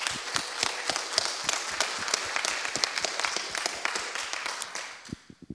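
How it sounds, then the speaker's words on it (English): Applause for competing teams at a 5G innovation challenge final fills a hall, dense clapping from a crowd that holds steady and then thins out to a few last scattered claps. "I want another round of applause for the teams because they did a great job"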